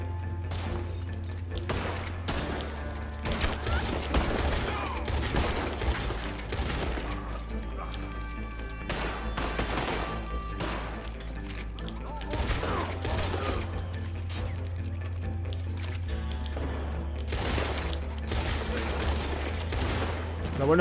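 Rapid gunfire from a Red Dead Online gunfight, with dense bursts of shots and thuds running continuously over a steady low game-music drone.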